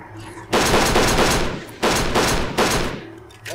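Loud, close automatic gunfire in Kane and Lynch 2: Dog Days, three sustained bursts separated by short pauses.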